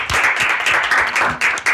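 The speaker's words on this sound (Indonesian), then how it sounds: "Tepuk tangan dulu buat kita semua" Dense, steady applause from a studio audience welcoming listeners at the start of the Forum Riset dan Debat podcast, clapping loud and close for nearly two seconds with no talk over it.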